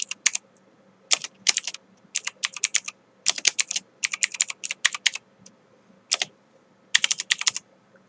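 Fingers type text on a computer keyboard in clusters of crisp, close key clicks broken by short pauses, with no voice present.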